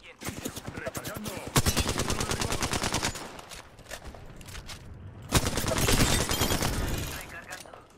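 Rapid automatic gunfire from an Apex Legends firefight, dense bursts of machine-gun fire in two loud stretches with a brief lull between, continuous and close.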